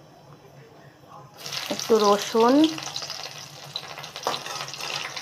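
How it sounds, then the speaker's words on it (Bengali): Black cumin and regular cumin seeds drop into hot oil and burst into a sharp, close sizzle and crackle that keeps frying steadily, with someone speaking briefly over it. "তেল দেওয়ার পরে এখন তেলটা গরম হয়ে গেছে, জিরা ফোড়ন দিয়ে দেবো"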